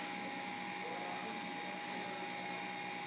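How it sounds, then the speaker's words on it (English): Oscillating electrical tone from a Djed device conductor, a faint, continuous hum with a steady pitched whine, unbroken through the whole stretch. "It's actually creating an oscillation right here. So there's an audible tone."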